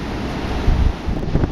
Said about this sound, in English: Those waves are pretty high